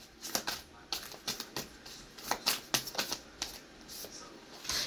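A tarot card deck is shuffled in quick, crisp bursts of riffling and flicking, close and fairly quiet, with uneven rhythm over about five seconds and no talking.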